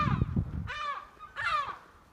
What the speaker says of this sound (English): This seagull wants to kill me probably.